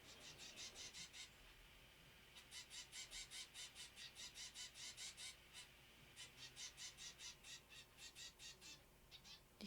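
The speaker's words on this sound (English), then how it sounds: "The finches are noisy today." Finches chirp in rapid, bright bursts of short repeated calls, with brief pauses between the clusters, fairly loud and steady throughout.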